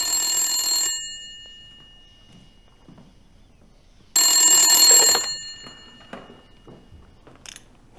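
A telephone rings loudly and close, two bright electronic bursts about three seconds apart, with quiet room noise and faint movement between them and no talking.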